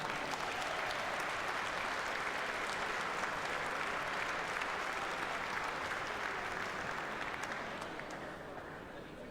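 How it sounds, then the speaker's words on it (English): Audience applause at the 40th Winmau World Masters darts event in Hull City Hall, a dense steady clapping that carries for several seconds before easing slightly, fairly distant and without talk. "Please give a round of applause for our first referee of the afternoon from England, Mr. Nick Rolls."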